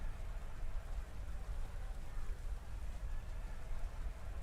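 Rain weather effect in the video game Pokemon Sword/Shield, a soft continuous hiss of falling rain at low level, even and unbroken, with no voices.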